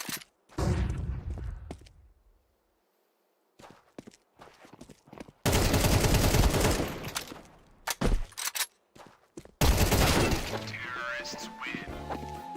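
Video game combat with a flashbang and gunfire, sharp bursts of shots and crashing impacts broken by short quiet gaps, loud and close, with some faint voice sounds between.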